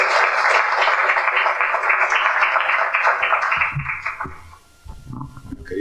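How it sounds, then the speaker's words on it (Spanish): Strong audience applause at a book presentation event, dense sustained clapping for about four seconds that thins out and fades, followed by faint low sounds. "Lo recibimos con un fuerte aplauso"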